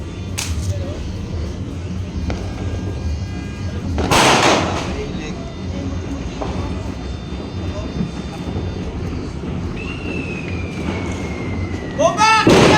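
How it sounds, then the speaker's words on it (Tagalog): A few sharp New Year firecracker bangs, one loud near burst and a crackling string at the end, over a low rumbling background with faint whistling. "Takot ako sa paputok."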